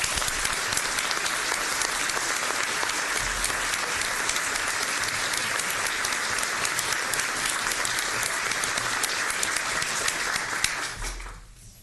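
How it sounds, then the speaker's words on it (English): Sustained audience applause for students at a county commissioners court meeting, dense even clapping from a room of people for about eleven seconds before tapering off, with no talk over it. "So please join me in a round of applause for these students."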